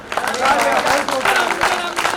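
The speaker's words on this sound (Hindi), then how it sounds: "इन दोनों के लिए तालियां बजाओ" An audience claps in a steady, dense burst of applause, with voices mixed into the crowd noise.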